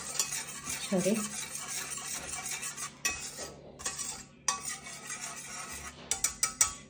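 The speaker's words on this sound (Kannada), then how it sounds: "ಇವಾಗ ನಾವು ಇದನ್ನ ಚೆನ್ನಾಗಿ ಮಿಕ್ಸ್ ಮಾಡ್ಕೊಳ್ಳೋಣ" Cupcake batter stirred in a bowl, with scraping and clinking of the utensil against the bowl in uneven bursts, close and fairly quiet, with a brief word spoken.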